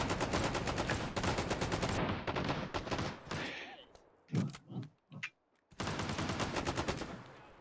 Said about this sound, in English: I started firing before I finished going around the corner